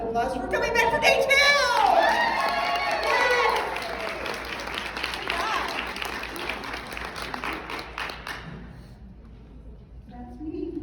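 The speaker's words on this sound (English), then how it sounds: "And how about you give yourselves a round of applause for coming back for day 2?" A conference audience at Rejuvenate You applauds itself on day 2, sustained loud clapping with scattered cheers and voices that fades out toward the end, followed by brief quiet.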